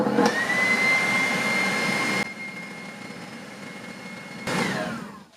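An Actifry 2in1 air fryer fitted with a grill basket starts up and runs with a steady, loud fan whir and whine. The whir drops to a lower, quieter hum midway, then swells again near the end.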